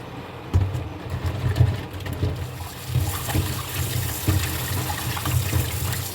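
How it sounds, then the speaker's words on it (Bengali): Catfish from a pond are swished and washed in a basket with water, a close, rhythmic sloshing and splashing that comes in repeated surges without speech. "তারপরে ঝুড়ির গায়ে দোলে দোলে ধুয়ে দেবো, একদম পরিষ্কার হয়ে যাবে মাছটা"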